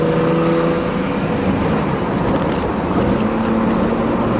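A 1969 Mercedes-Benz 280SE with a four-speed manual gearbox drives along, its engine droning steadily under constant road and wind noise from inside the cabin, with no talking.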